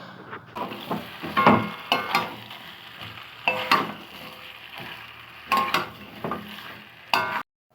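Mutton with potatoes and papaya being stir-fried in a pot, low sizzling under repeated close scraping and stirring strokes that come in irregular bursts, with occasional wooden knocks against the pan, no voices, ending abruptly.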